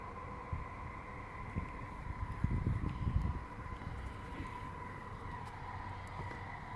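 A train passes at a distance as a broad, steady rumble with a faint sustained tone above it, swelling briefly in the middle before settling back.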